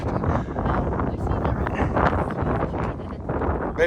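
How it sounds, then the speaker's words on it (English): Gusty wind rumbling and buffeting the microphone, with faint rustling and muffled voices mixed in. "It is windy."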